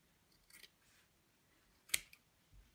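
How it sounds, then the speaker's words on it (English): Scissors snip into fabric in a few faint, scattered cuts, one sharper crisp snip standing out, in a quiet room with no talking. "I can just nudge my scissors into the fabric like so,"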